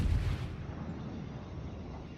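Naval guns firing in World of Warships as the Tier VIII German battleship Tirpitz engages a distant destroyer: a loud booming salvo at the start that decays into a long rumbling tail.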